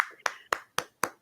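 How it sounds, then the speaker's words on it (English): A single person's hand claps, four sharp, evenly spaced claps in about a second, close and crisp, with a bit of talk-like sound just before the first one. "Should I give you an applause?"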